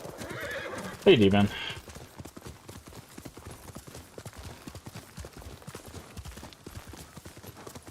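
A horse in the Ghost of Tsushima game gives a sharp whinny, and steady clip-clopping hooves follow as it moves at a trot, with someone talking over the top.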